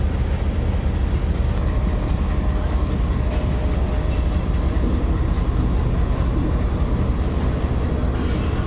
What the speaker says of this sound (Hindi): उधर भी कुछ ट्रेन आ रही है।